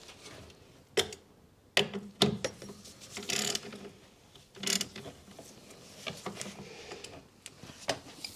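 A 13mm socket undoing the battery hold-down clamp on a 2005 Skoda Fabia 1.2 petrol, with irregular close ratcheting clicks and metallic taps in short bursts across the clip, no voices.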